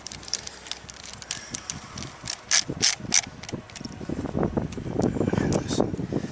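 Close metallic clicks and ratcheting scrapes come from a tool working a mounting screw out of the power antenna assembly on a Lexus SC430, in short irregular bursts with some background noise.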